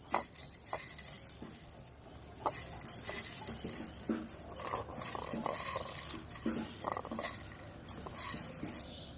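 Cooled Maggi noodles are crushed in a bowl, with close crunching, scraping and clinking of a utensil against the dish in irregular bursts.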